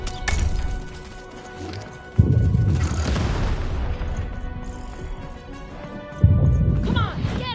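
Cannon shots in the video game Lost in Random, two heavy booming blasts a few seconds apart over a dense layer of game music and effects, with some voice audible.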